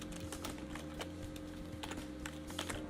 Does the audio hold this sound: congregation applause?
no